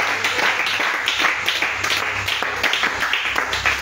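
A congregation claps and cheers for Jesus at a French-speaking evening worship service, dense sustained applause filling the room with a steady low hum beneath.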